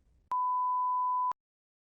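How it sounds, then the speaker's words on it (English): A single clean electronic beep from a TOEFL speaking practice test, steady and loud, lasting about a second after a brief low rumble, followed by silence. "You may start preparing after the beep."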